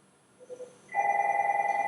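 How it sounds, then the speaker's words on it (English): A house telephone rings indoors. It starts with a faint brief tone, then a loud steady electronic ring comes in partway through and holds to the end. "my phone is ringing in the house"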